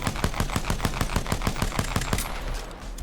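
A P2020 pistol in the video game Apex Legends fires rapidly: a fast, even string of sharp, punchy shots, roughly a dozen in quick rhythm, then stops with a faint tail.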